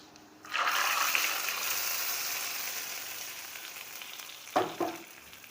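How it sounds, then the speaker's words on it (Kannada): A sudden burst of hot sizzling as hot tempering is poured into tambuli, gradually fading, followed by two short stirring clinks near the end. "ಒಗ್ಗರಣೆ ಈಗ ಬಿಸಿ ಕಾದಿತ್ತು ಇದಕ್ಕೆ ಹಾಕು"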